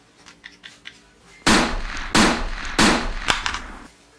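A super powerful Gunman toy gun fires three loud, sharp bursts about a second apart, each blast sustained and ringing out after quieter faint clicks and handling at the start; no talking.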